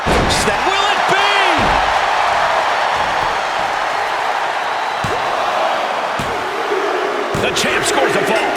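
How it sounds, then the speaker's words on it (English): Heavy forearm strikes land in the WWE 2K24 wrestling game, a few sharp slamming impacts spaced out over a steady crowd roar while a commentator talks throughout. "Just a revolving door of forearms. Listen to the impact."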